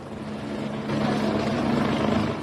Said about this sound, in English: Here, a helicopter hovers, help so close.